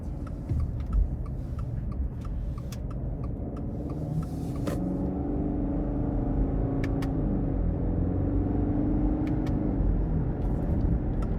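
A 2023 Subaru Outback Onyx Edition with the 2.5 engine and CVT, shifted into manual mode, accelerates with a steady low engine and road drone inside the cabin, joined by occasional faint clicks.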